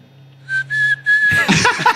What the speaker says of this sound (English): He's whistling through his teeth too, though.